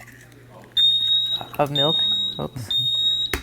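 Repeated high-pitched electronic beeps from a waffle iron sound over a kitchen conversation, a steady tone broken by short gaps, loud and close.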